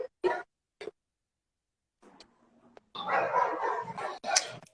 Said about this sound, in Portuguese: Agora parece que é tu que tem um cachorro aí no fundo.